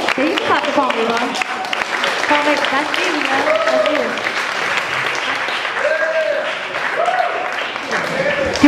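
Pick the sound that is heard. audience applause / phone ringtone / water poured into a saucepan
audience applause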